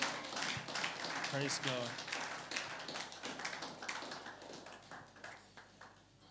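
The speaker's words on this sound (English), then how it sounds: "Let's give a clap offering to the Lord." A church congregation claps and cheers through an evening service, a dense wash of applause mixed with voices calling out praise and music underneath, gradually easing toward the end.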